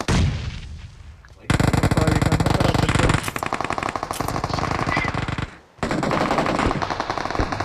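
Rapid automatic gunfire bursts in a video game, loud sustained rattling volleys with brief pauses between strings of shots, plus a faint voice in the background before the shooting starts.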